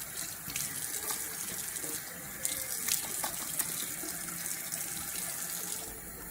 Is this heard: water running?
yes